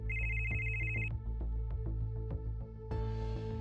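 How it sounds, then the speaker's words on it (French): A telephone rings with an incoming call, a bright repeated electronic ring over a soft rhythmic backing for the first second, then a steady tone continuing alone at moderate level. "elle reçoit un nouvel appel."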